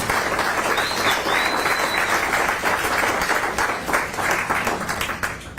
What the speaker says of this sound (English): Can you give another round of applause for Betty